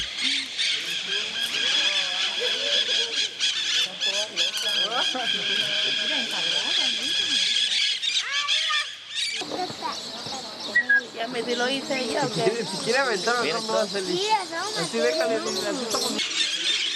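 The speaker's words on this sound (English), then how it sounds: "The green parakeets fly in over them." Many green parakeets squawk and screech in a dense chorus as they fly overhead in Mexico, shrill calls overlapping continuously while people talk beneath them.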